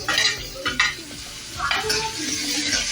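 Ingredients for masala Maggi being fried in a little oil in a pan, with an ongoing sizzle and scraping, clinking stirring strokes against the pan, close and moderately loud, with no talking.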